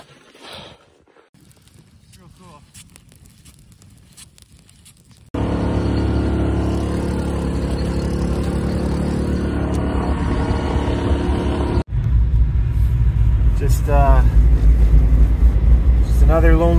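A car drives home at night after an ice fishing trip in -30C cold, its steady loud road and engine rumble filling the cabin after a quieter stretch, with brief talk and movement at the start.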